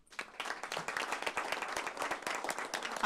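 An audience at a school board of education meeting claps, starting with a few scattered hands and building into a quick, brisk round of applause heard fairly close.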